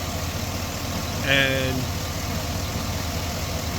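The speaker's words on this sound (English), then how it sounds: "if I would start it cold, it'll start and idle just like this" An L92 V8 truck engine idling after a cold start sits as a steady, even low rumble throughout. A voice briefly speaks over it.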